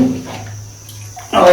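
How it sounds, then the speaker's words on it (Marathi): Water is poured while a bathroom is being washed, a short splash at the start and a louder rush near the end, close by, with a quieter gap between. "पाणी थोडं टाकून"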